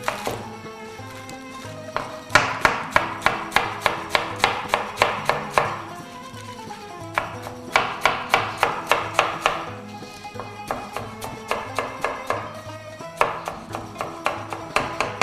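Rapid rhythmic knife chopping of lettuce on a board in repeated bursts with brief pauses, close and crisp, no talking.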